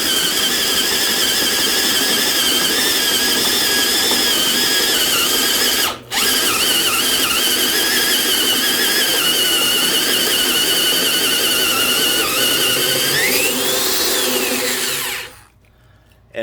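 Black & Decker 7-amp 1/2-inch corded drill running under load, a loud continuous high whine with a brief cut-out near six seconds, pitch sagging and rising as it bogs, then stopping abruptly near the end.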